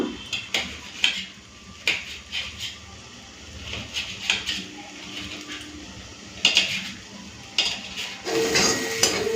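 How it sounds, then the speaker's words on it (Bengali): A knife cutting a tomato for a cabbage dish, with a run of irregular clicks and taps on a board alongside light clinks of kitchen utensils, close and fairly quiet. "এখন এই টমেটোটা কেটে নিচ্ছি বাঁধাকপিতে দেওয়ার জন্য"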